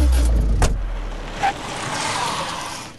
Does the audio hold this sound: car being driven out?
yes